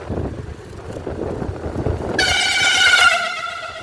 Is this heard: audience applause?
no